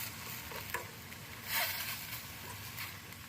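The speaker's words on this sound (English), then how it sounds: "Give it a stir." A vegan tofu scramble with nutritional yeast is stirred in a frying pan, giving a soft continuous sizzle with light scraping and a few brief clicks from the utensil, close and fairly quiet.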